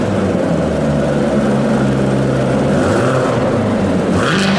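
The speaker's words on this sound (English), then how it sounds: "revving it up to test out its engine" A 2019 Corvette ZR1 engine revs loudly and steadily up close, a continuous rumble that climbs in pitch near the end as the throttle is blipped harder; no voices.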